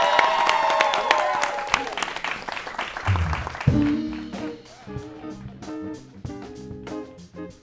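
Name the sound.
studio audience applause at end of show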